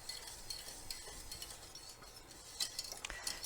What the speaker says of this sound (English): we're going to whisk this for another 1 to 2 minutes, 2 to 3 minutes, until it thickens